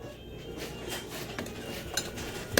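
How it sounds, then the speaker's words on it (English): Soft, continuous scraping of a utensil stirring inside a container, punctuated by a few light clinks, fairly close and quiet. "I'm going to do this stir it up"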